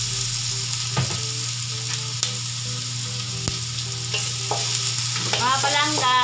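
Spicy bopis, a chopped offal dish, sizzles hard in a pan while a utensil stirs it. A constant close hiss is broken by sharp metallic scrapes and clinks, and no one speaks.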